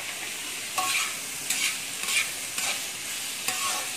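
Beetroot curry with ginger and onion frying in a pan under a constant close sizzle, broken by about five regular scraping strokes of a spoon stirring, roughly every second.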